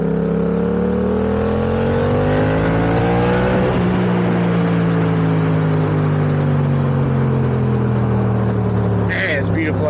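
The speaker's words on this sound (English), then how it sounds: "it's actually the stock exhaust, but I did a little mod to it." Yamaha MT-07 motorcycle engine running through a modified stock exhaust, a loud steady drone that rises in pitch, eases off midway, then holds steady under wind noise.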